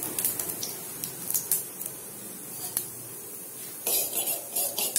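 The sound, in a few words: spoon and pan clatter while adding ghee to a pan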